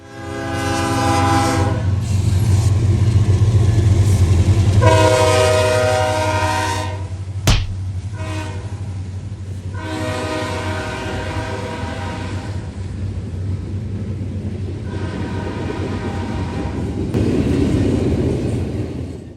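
Freight train passing with an SD70M-2 locomotive, its loud horn blasting in several long bursts over the rumble of the engine and the steady clatter of rail cars rolling by close.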